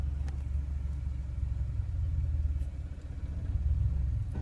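A car engine rumbles low and steady as the clutch is eased off, a close, continuous mid-level drone that swells slightly toward the end, with no voices.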